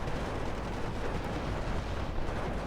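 Machine gun fire in a multiplayer war strategy game match on the Haroshaje map, a dense, steady roar of overlapping gunfire and distant blasts running unbroken through the whole stretch.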